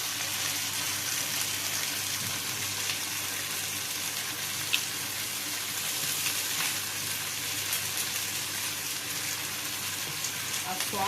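Cauliflower sizzles steadily in a frying pan for chilli cauliflower, a constant close hiss of hot oil with faint clinks, running evenly throughout with no break.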